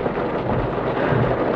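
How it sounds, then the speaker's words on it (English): A summer thunderstorm pours down steadily, a dense continuous rush of heavy rain with a low rumble of thunder beneath, loud and close throughout with no voices. "It's a big storm."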